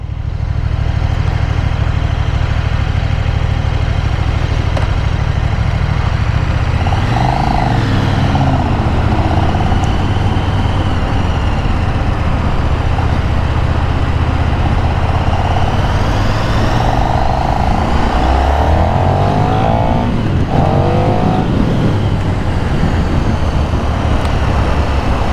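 A 2024 KTM 1390 Super Duke R motorcycle cruises down the road in third gear at around 40 mph, its engine a steady, mellow drone mixed with continuous wind rush and faint shifts in pitch.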